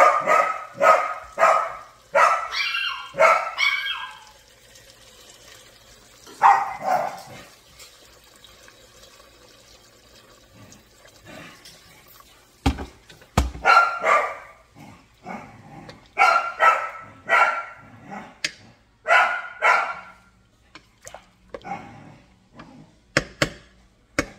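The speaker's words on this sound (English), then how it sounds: "sorry, my dogs are playing in the background" Dogs bark in repeated bursts while playing, some clustered and excited, with quiet gaps between and faint running water in the background.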